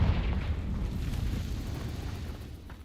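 A Confringo blasting spell detonates in the Hogwarts Legacy video game, a loud, deep rumbling boom that starts strongly and slowly decays over a few seconds with no voices.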